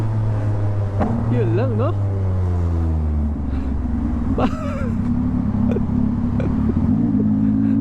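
Yamaha MT-09 2023 motorcycle engine in sport mode on a city ride, a steady low drone rising in pitch as it accelerates, with a rider talking over it throughout.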